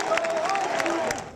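College basketball crowd of thousands cheering and applauding inside the HP Pavilion arena, a steady roar of clapping and shouts with a whistle rising through it, fading slightly at the end.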